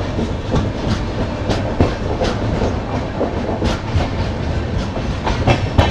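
The Double Decker Express rumbles steadily along the rails with continuous clickety-clack of wheels over joints, heard from inside the moving train with no talk.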